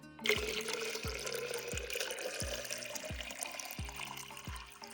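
Water pours steadily from a watering can onto plants in a Himachali village, a continuous close splash and trickle with regular low thuds recurring about once a second underneath.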